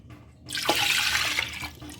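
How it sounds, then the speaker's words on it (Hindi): Water is poured into a cooking pot of yogurt for kari pakora, a loud gushing splash that starts abruptly, rushes steadily for about a second, then tapers off, with no voices. "उसी बर्तन में हम पानी डाल के 2 बड़े बाउल पानी के डाल देते हैं।"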